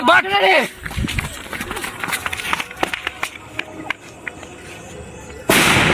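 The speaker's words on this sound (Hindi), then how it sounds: "कितने आवाज केलकै बम" Small Diwali firecrackers burst nearby as a rapid string of sharp cracks and pops. Excited voices talk and shout over them, and a louder rush of noise comes at the end.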